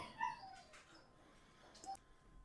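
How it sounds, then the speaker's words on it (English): Puppies whimper and yip faintly in a quiet room, a few thin high cries near the start and again later, brief and soft against a low background, with no talk. "Had to take care of screaming puppies"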